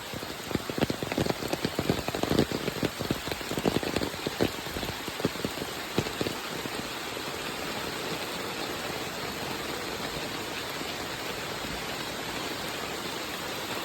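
Heavy monsoon rain in the Konkan region pours down in a dense, steady roar. It is louder and more crackling with close drop impacts in the first half, then settles into an even hiss.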